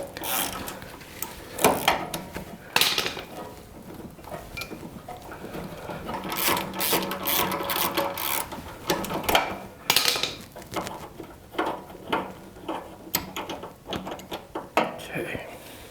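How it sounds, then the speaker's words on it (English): A ratchet backs a spark plug thread repair tool out of a damaged spark plug hole, producing clicking, ratcheting bursts and metallic handling noises up close, with irregular pauses between strokes. "I've got this tool screwed in right to the end. And it's coming out pretty easy"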